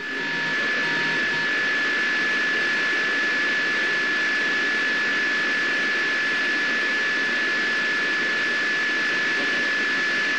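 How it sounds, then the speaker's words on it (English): Russian Mi-8 helicopters circle over the Soyuz TMA-07M landing zone, heard as a steady, loud, broadband rotor and turbine roar that holds unbroken throughout, with no voices. "the Russian Mi-8 helicopters circling the landing zone in preparation"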